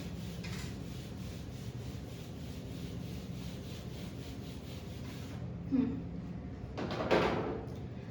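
An eraser rubs across a board during a cell biology lecture, a steady scratchy swishing that runs continuously, then stops, followed by a couple of soft knocks.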